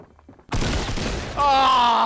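Sudden loud burst of gunfire in Fortnite breaking through a quiet moment, followed by a harsh sustained blast of noise with a ringing tone layered over it, close and dominant.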